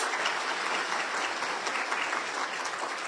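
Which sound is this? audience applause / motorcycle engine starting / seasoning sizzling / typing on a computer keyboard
audience applause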